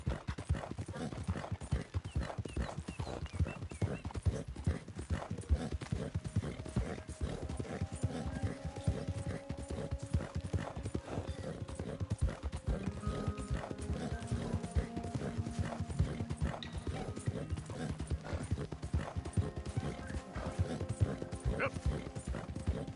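Rhythmic clip-clop of a horse's hooves in the Western video game Red Dead Redemption 2, steady trotting beats throughout with occasional speech and faint background music tones.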